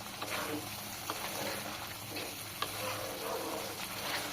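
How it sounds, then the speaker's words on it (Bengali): Fried prawns are tossed and stirred in a pan over a high flame, a faint, continuous sizzle broken by a few soft clicks and scrapes, with no talk. "ভেজে নেওয়া মাছগুলোকে চিংড়ি মাছগুলোকে এর ভেতরে দিয়ে দেবেন আর খুব ভালোভাবে নেড়ে চেড়ে নেবেন"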